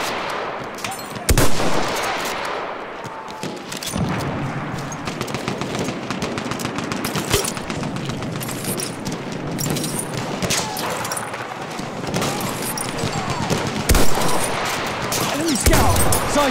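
Machine gun fire in the Battlefield 1 conquest mode rattles almost without pause for over fifteen seconds, loud and close, with heavier shots punching through and voices speaking over the din.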